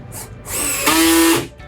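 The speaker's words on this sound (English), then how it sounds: "Clamp that down, and now we're ready to run a screw in." A drill drives a screw into a wooden drawer clamped for custom installation, a short whirring burst that rises in pitch and stops within about a second.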